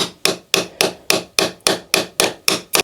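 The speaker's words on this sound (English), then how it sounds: "I'm trying not to dig in with the chisel, but it's really hard." Tiles are chipped off a plaster wall with a chisel struck in a steady rhythm, about ten sharp close hits each followed by a brief scraping decay, with no talk.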